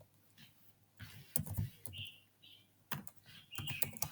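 Computer keyboard typing while an IP address is entered during a networking lab, heard as irregular bursts of close key clicks with short pauses, over faint background chirps.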